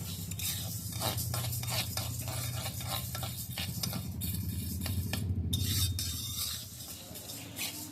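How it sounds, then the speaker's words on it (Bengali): Lentils dry-fried over a gas flame for vegetable khichdi, stirred steadily in a pan with repeated scraping and rattling strokes over a low, continuous sizzle, close and alone. "ভালো করে নেড়ে চেড়ে হালকা করে ভাজবো, খুব বেশি ডালটাকে আমি খড়াবো না"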